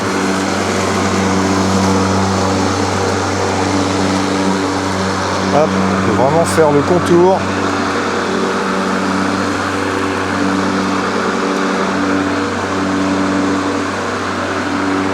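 A steady droning motor hum from a Mowrator S1 4WD radio-controlled lawn mower runs throughout, while someone speaks over it and a few brief squeaky tones cut in midway.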